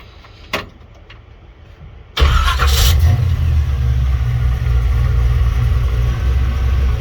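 An old truck with its original choke knob cranks briefly and fires up into a steady, loud idle that runs on close by, with no talk over it.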